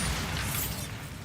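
Bombarda blast spell cast in the video game Hogwarts Legacy, a dense, loud burst with mechanical clattering that fades after about a second.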